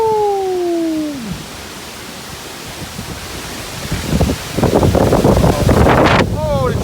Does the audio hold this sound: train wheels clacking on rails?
no